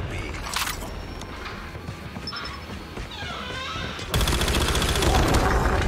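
Rapid bursts of pistol gunfire in Call of Duty Mobile crackle amid busy action noise, with a dense, louder volley taking over near the end.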